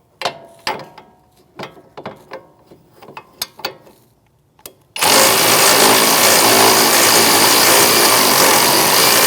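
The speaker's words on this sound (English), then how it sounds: "Now I can get my electric ratchet in there and speed this up." An electric ratchet loosening a brake caliper bolt on the rear wheel hub of a 2016-2025 Chevrolet Malibu: a few seconds of sharp, uneven ratchet clicks, then the tool kicks in with a loud, sustained whirring buzz that runs to the end.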